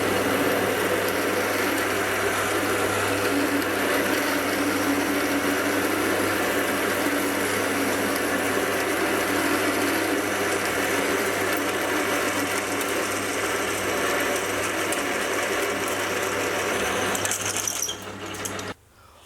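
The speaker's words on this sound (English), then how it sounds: "I'll first start off by drilling a pilot hole." A lathe drills a pilot hole through a chuck backplate, giving a steady, loud mechanical whir with a grinding hum that runs without a break and then winds down at the end.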